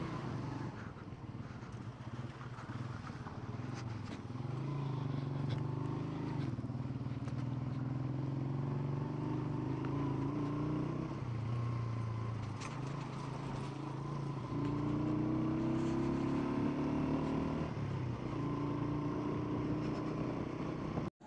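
A motorcycle climbs the mountain road toward Babusar Top in rain and a cold, strong wind, its engine droning steadily up close, with the pitch rising and dipping as the rider shifts and throttles.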